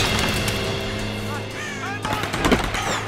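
Rapid gunfire in the Tomb Raider game, with sustained bursts of shots over a droning background and a sharper flurry of reports near the end, heard without speech.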